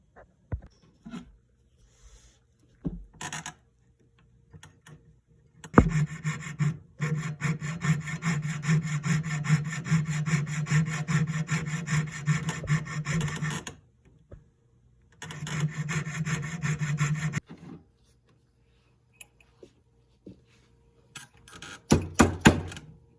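A thick metal pin is cut at a jeweller's bench, heard as rapid rhythmic rasping strokes in two close, clear bursts separated by short pauses and a few isolated taps.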